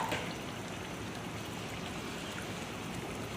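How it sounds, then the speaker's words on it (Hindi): Water poured from a glass into a cooking pot for beef pulao gives a steady, close splashing rush that holds evenly throughout, with no talk. "और ये आ गए हमारे 5 गिलास पानी इसके अंदर।"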